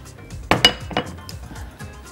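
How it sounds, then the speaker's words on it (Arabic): Tomato salad with red pepper and toasted bread being stirred in a bowl, giving a few sharp clinks of utensil against the dish around the middle, with soft scraping between them. "قلب السلطه دي كويس، نقطه زيت زيتون كمان"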